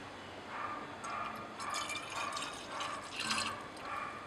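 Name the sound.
liquid filtrate poured into a separating funnel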